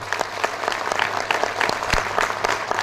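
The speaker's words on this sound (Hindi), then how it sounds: "एक बार अपने लिए जोरदार तालियां बजा दो" A seminar audience in Ahmedabad applauds steadily, dense clapping filling the whole stretch at a fairly loud, even level, with no one speaking over it.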